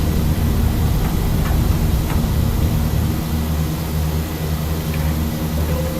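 Tecnam P2006T twin-propeller light aircraft in X-Plane 12 at takeoff rotation, a steady loud drone of engines and propellers with low rumble, continuous throughout without speech.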